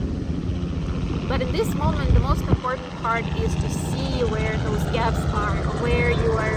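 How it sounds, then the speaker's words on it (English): A steady engine drone like a helicopter hums under a person talking throughout. "sorry about the helicopter"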